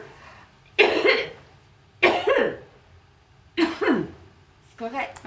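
A patient coughs during deep breathing and coughing exercises: four separate harsh coughs spaced about a second apart, close and distinct over quiet room noise.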